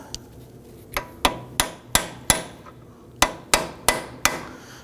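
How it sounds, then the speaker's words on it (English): A hammer taps a tool to dimple the edge of a CV axle nut on a 2005-2009 Subaru Legacy, a series of about ten sharp metallic strikes in uneven rhythm, close and loud with no talk. "we want to go ahead and use a tool to go ahead and dimple that edge of the nut"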